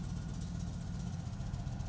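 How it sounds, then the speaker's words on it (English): A 2022-or-newer Indian Chief motorcycle engine idling after an oil change, a steady low rumbling drone with even vibration, close and continuous with no voices. "start the engine and allow it to idle for 30 seconds to begin the final oil level check"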